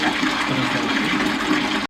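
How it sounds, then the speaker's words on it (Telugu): Tap water from a 24-hour household supply runs in a strong, steady gush. It is loud and continuous for the whole moment, with no voices. "మంచిగా దొడ్డు కూడా వస్తుంది నల్ల, మంచిగానే వస్తుంది వాటర్"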